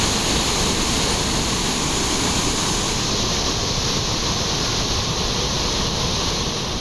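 Flooded Thirparappu waterfall roaring with a steady, loud, dense wash of rushing water that holds constant and unbroken throughout, with no voices.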